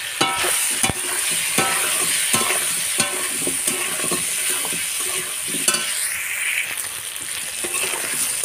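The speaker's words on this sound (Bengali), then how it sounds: "আলুটা এর সঙ্গে ভেজে নেব" Potatoes fry in a pan with ginger-garlic paste while cooking a pointed gourd and prawn dish, giving a steady close sizzle and bubbling with repeated scraping stir clicks throughout, no voices.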